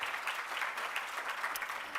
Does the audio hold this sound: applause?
yes